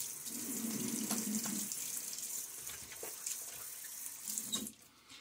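A tap runs during a wet shave with a Gillette Nacet blade, a close, steady stream of water hitting a sink that wavers slightly and cuts off near the end.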